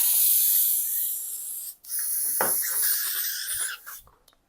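An airbrush being rinsed and sprayed out, with a steady close hiss of air that cuts off briefly, then sputters back with wet bursts before fading to quiet.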